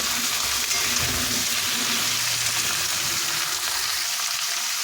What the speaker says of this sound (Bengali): দিয়ে একটু তেলের সাথে নাড়াচাড়া করে নেব এবার যে কুমড়োগুলো কেটে রেখেছিলাম সেটাও দিয়ে দিচ্ছি